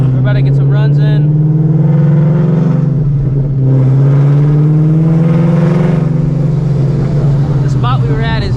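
A supercharged Ford Shelby GT350 with an ESS G3R kit, making 800 to 1,000 hp, revs loud and close at a dark track. Its deep engine note rises and falls through a long rev while people talk over it.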